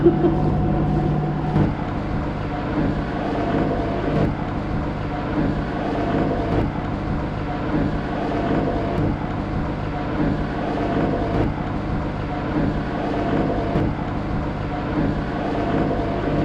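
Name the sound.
boat motoring in swell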